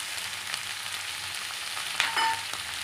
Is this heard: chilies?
yes